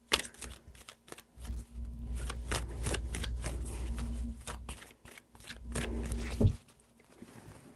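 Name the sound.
tarot cards being shuffled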